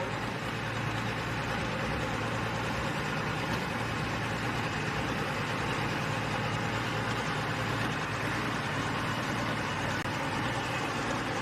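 A John Deere pulling tractor running at a tractor pull event in Beloit, Ohio, a continuous dense engine roar heard from a distance, steady and unbroken throughout with no talk over it.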